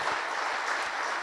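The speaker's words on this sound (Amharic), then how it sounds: "ለአስቼ አጨብጭቡለት።" A church congregation applauds for Pastor Asche at a 14th anniversary service, with dense, steady clapping filling the room, loud and continuous with no voices over it.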